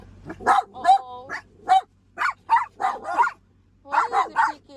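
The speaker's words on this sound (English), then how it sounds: "No more barking." Several dogs barking in quick bursts at a car wash, sharp yips and barks coming in clusters with short gaps, loud and close, alongside some whimpering.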